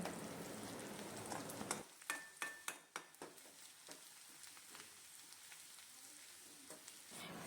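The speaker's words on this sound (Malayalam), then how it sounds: "ഇനി ഇതിലേക്ക് കുറച്ച് ചുവന്നുള്ളി അരിഞ്ഞത് കൂടി ചേർത്ത് കൊടുക്കാം ഈ ഉള്ളി നന്നായിട്ടൊന്ന് മൂപ്പിച്ച് എടുക്കാം" Chopped shallots frying in hot coconut oil while cooking okra stir-fry, a loud steady sizzle with a burst of sharp spoon-against-pan clinks early on, then an even crackling hiss.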